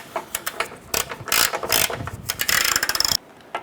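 A ratchet drives a bolt a few threads into the front lower control arm of a 2008–2012 Honda Accord, rapid clicking bursts in uneven spurts, close and loud, with brief pauses between strokes.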